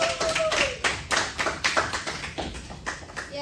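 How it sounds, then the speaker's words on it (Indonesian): A small group in a room applauds, loose, uneven claps close to the listener that rise and fall in bursts for a few seconds. "Tepuk tangannya dulu teman-teman."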